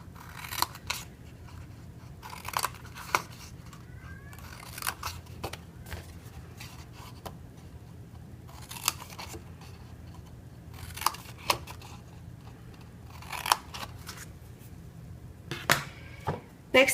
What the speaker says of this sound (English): You'll also need to cut up along these score lines to make flaps for the box.